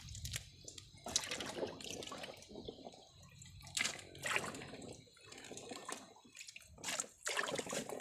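Fresh turmeric roots washed by hand in a basin of water to rinse off soil, with repeated sloshing, splashing and trickling in uneven bursts, close and moderately loud.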